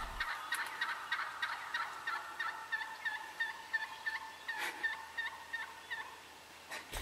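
Wild turkeys in a spring hunting field, with toms and jakes close by, gobble repeatedly and in overlapping bursts from several directions, some birds near and loud and others farther off, with no talking.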